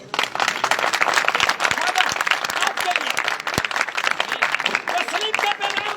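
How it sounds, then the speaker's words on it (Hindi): A congregation at a church sermon bursts into steady group clapping, a busy, uneven patter of many hands that carries on throughout without pause. "आपके लिए तालियां बजाएं।"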